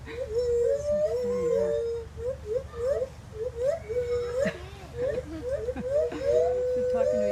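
Monkeys at the Sacramento Zoo call in repeated rising, wavering hoots and whimpering howls, fairly loud and close, with people talking faintly beneath.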